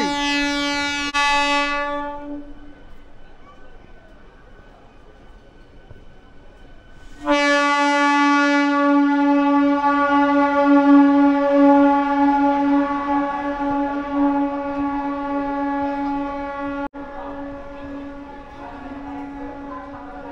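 MEMU train 63509 Bardhaman–Jhajha pulling into platform 6 at a crowded Bardhaman station, sounding a loud, sustained two-part electric horn, a long blast, a pause, then a longer blast that gradually fades.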